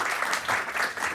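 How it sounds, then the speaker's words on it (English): A brief burst of audience applause at a tech talk event during a hackathon, steady and moderately distant. "And a big round of applause to the Henning Larsen team."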